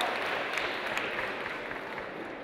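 Applause rises from an audience at an awards ceremony for girls in aeronautics careers, a steady, dense wash of clapping that carries on for the full stretch at moderate volume.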